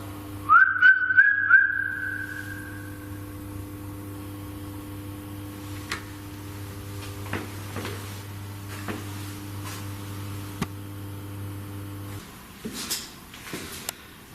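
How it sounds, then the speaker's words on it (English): A person whistles a short rising-and-falling phrase for about two seconds inside an old mill building, followed by quiet ambience with scattered faint taps and knocks over a steady low hum. "And if I whistle back."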